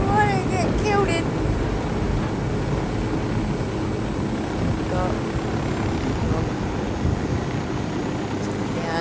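A helicopter in Ghost Recon Wildlands drones steadily overhead, a loud, constant rotor rumble that persists across the whole stretch with faint game sounds on top.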